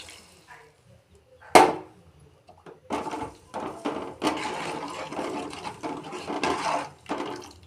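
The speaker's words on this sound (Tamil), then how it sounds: "அதுக்கு இப்போ கரைச்சி வச்ச புளி ஊற்றுறேங்க" Dissolved tamarind water poured into a simmering pot of Tamil kuzhambu, a splashing pour that starts with a sharp splash and continues in uneven, moderately loud liquid bursts at close range.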